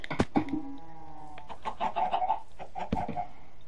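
Chickens on a farm in the video game Minecraft cluck and squawk in a few short, close calls with clicky bursts between them, heard on their own without talk.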